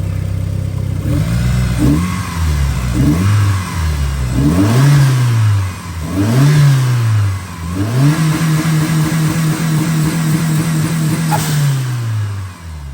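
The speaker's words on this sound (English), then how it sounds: "Let's give it a rev and see what we got." A 1991 3000GT VR4 engine revs up several times in a row, rising and falling in pitch, then holds a higher steady rev before easing down.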